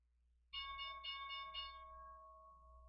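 Stock market opening bell ringing in three quick electronic dings that blend into a sustained, slowly fading tone, loud and alone over a low background hum.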